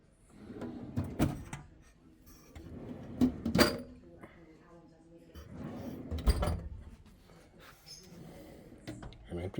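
Someone opens a drawer in a building, producing several loud wooden slides and knocks with a faint clink. Talk and soft movement noises are heard between the bumps.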